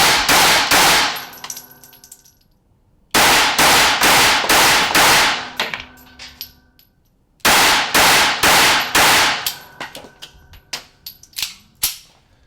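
A Glock 42 pistol fires Hornady 90 grain XTP hollow-point rounds in three loud bursts of rapid, sharp shots, each string followed by ringing echo and a pause, with a few lighter shots near the end.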